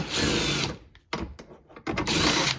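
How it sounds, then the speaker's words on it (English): A power tool spins out a 10mm bolt on the rear hatch of a Toyota Sienna minivan. Two close whirring bursts are separated by a short gap filled with a few light clicks. "now you have a 10mm head bolt right here to remove"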